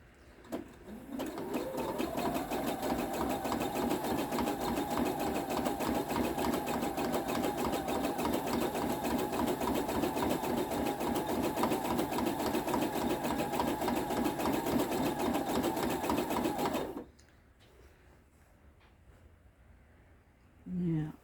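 Sewing machine stitching an oven mitt at slow speed with an ordinary needle, a steady motor whir and rapid needle clatter running about seventeen seconds before stopping, leaving quiet room tone.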